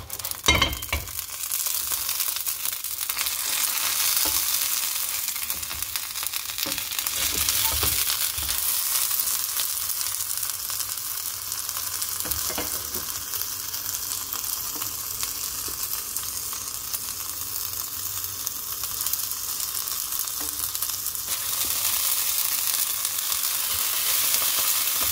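A tuna egg pancake fries in a pan for breakfast, giving a continuous loud sizzle that swells and eases over time, with occasional clinks and scrapes of a utensil.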